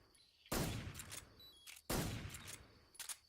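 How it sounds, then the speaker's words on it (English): Two heavy gunshots ring out against the End boss in Metal Gear Solid 3, each a sharp loud blast with a long trailing echo, spaced about a second and a half apart over a faint game background. "We're going to shoot him 3 times."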